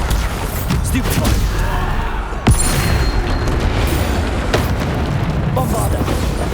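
A sharp Bombarda blasting spell explosion bursts once amid continuous loud combat noise in Hogwarts Legacy, a sudden boom standing out over a dense, rumbling backdrop.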